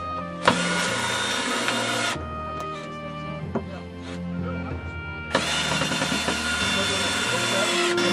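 A cordless drill whirs in two long bursts, high and buzzing, driving screws through plywood into 2x4s, separated by a quieter stretch of clicks and knocks, close by.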